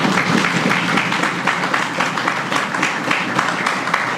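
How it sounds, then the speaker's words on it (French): A large audience at a gathering of striking teachers' union members claps steadily, a dense, continuous round of applause with little variation in loudness. "Et je vous demande d'applaudir pour vous-même."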